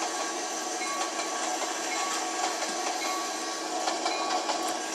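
Steady rumble and hiss of a train rolling along in the Trainz railroad simulator game, a constant broadband wash with faint tonal squeal lines, no distinct stopping event, continuous and moderately loud.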